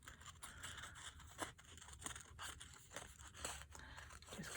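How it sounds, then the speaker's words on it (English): Scissors cut a rough, squiggly outline around a paper notecard piece for a junk journal collage, with quiet repeated snips and soft paper rustling close by, no voices. "I'm just going to kind of squiggly cut me an outline here"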